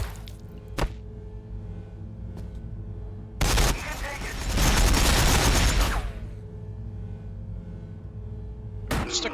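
In Warhammer 40,000: Battlesector, plasma shotguns open fire on charging Ork Gretchen: a dense, loud burst of rapid blasts lasting a couple of seconds, framed by sharp isolated cracks and quieter battle ambience.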